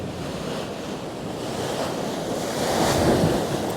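Surf breaking steadily on a Northumberland beach during winter cod fishing, a continuous loud wash of waves with wind noise, swelling slightly near the end.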